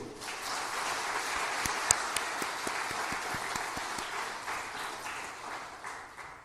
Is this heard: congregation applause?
yes